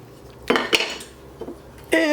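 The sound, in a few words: stirring onions in a cooking pot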